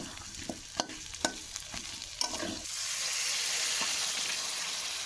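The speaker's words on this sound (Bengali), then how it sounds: "আমি এখন দিয়ে দেবো এর ভিতরে পরিমাণ মতো জল" Pangas fish curry cooks in a pan, with a few sharp stirring scrapes and clatters over frying, then a broad steady hiss and sizzle as water is poured in and the mixture bubbles, no talk.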